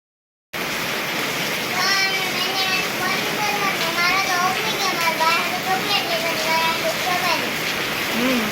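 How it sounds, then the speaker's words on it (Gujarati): Heavy rain pours down in a steady, dense hiss that fills the scene, while children and other voices chatter over it throughout. "અત્યારે જો અહીંયા ધોધમાર વરસાદ ચાલુ થઈ ગયો છે"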